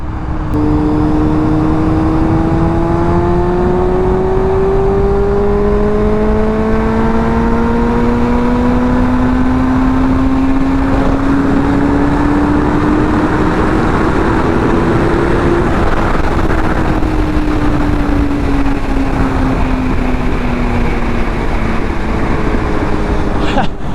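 Car engine pulling hard at high speed in third or fourth gear, its tone climbing steadily for long stretches and dropping once before rising again, loud and close with constant road and wind roar.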